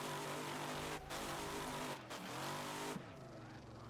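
A car engine revs and drones steadily during a drifting session in the video game Wreckfest, with harmonic tones rising and falling and brief dips as the car slides, continuous and fairly loud with no talking.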